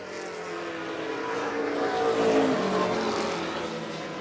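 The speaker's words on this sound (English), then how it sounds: "There goes Kevin Douglas down pit road." A pro stock race car rolls down pit road at a short-track race, its engine a rough, fairly steady roar that swells slightly as it nears and then fades, with broad crowd and track noise around it.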